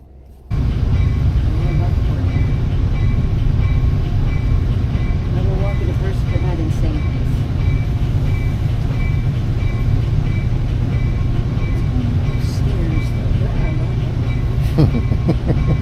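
A train rumbles steadily along the rails in a loud, continuous low roar, with faint clicks and squeals, heard from inside the carriage; voices murmur beneath.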